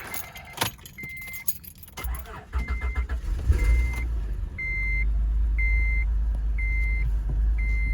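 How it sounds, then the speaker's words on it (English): A 2005 Acura TL is started after a serpentine belt replacement: keys jangle, the starter cranks, and the engine catches and settles into a steady, loud idle close by, while a chime beeps repeatedly. "let's fire it up and see if everything runs"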